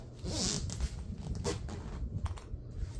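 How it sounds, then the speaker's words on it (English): Someone zips a fabric duffel bag shut in several quick, raspy pulls, close and fairly loud, with soft handling and shuffling noises around them and no speech. "I can actually zip it easier."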